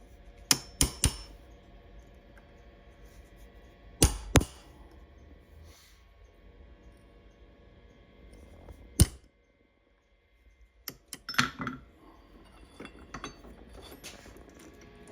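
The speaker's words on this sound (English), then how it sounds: "I'm just going to prick punch those spots and drill them in the drill press" Sharp metallic taps from a prick punch struck into marked spots on a small steel governor bracket for a model engine, set up on a support block: a few isolated close strikes, some in quick pairs, separated by quiet pauses.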